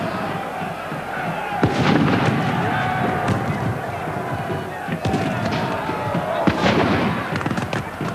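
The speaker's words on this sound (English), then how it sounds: "The musketeers fired volley after volley" Musket volleys in an English Civil War battle: dense, overlapping gunfire bursts over a continuous crackling din, with louder volleys around the middle and near the end.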